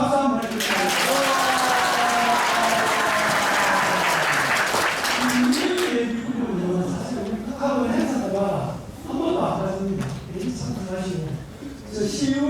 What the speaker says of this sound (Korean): 우리 한번 힘찬 박수 한번 해주세요.